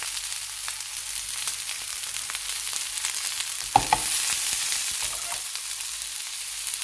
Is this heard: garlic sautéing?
yes